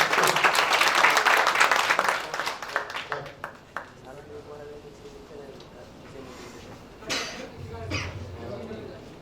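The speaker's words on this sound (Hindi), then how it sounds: "एक मात्र सरकारी शिक्षक हैं, तो एक जोरदार ताली उनके लिए" An audience at an award ceremony for educators in Muzaffarpur breaks into loud clapping for a government teacher. The applause is dense at first, then thins into scattered claps and fades under voices talking.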